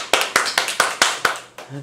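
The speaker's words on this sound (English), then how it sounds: "Let's give him a round of applause" About seven sharp hand claps at a steady, even pace follow a speech, sounding like one or a few people clapping up close, and a voice begins just as the clapping stops.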